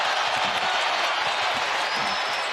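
A basketball arena crowd cheering and applauding during a college game, a dense, loud, steady roar filling the space, with commentary faintly beneath.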